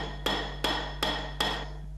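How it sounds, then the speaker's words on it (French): A hammer strikes copper in a metalworking workshop in Villedieu, four sharp, evenly spaced ringing blows with short metallic decays, close and clear over a low steady hum. "On reconnaissait même l'ouvrier au bruit du marteau et à sa façon de frapper le cuivre."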